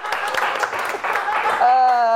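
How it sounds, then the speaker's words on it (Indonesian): Audience applause for Bayu, a stand-up comedian, at a comedy show: a dense, steady wash of clapping for about a second and a half, then a voice or tone that carries to the end. "Sekali lagi tepuk tangan buat Bayu"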